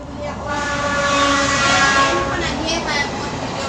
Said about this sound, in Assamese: ট্ৰেইন ষ্টেচনৰ কাষত ঘৰ হোৱা মানুহৰ এইটোৱে আৰু সমস্যা হৈ থাকিলে।